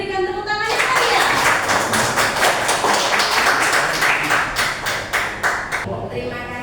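An audience claps for a speaker at a school counselling sharing session, dense loud applause starting after a brief voice and rolling steadily for about five seconds before tapering as talk resumes.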